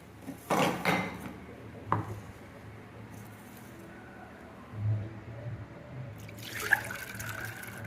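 Chana dal being washed in water in a kitchen sink, with a tap running in short bursts, splashing and a few clinks of a vessel, close and fairly quiet, no talk.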